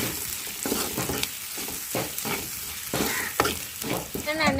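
A ground powder of coriander, cumin and peanuts, with cinnamon, fries and sizzles in a pan for masala brinjal curry. It is stirred in rhythmic scraping strokes, loud and close, with no talk.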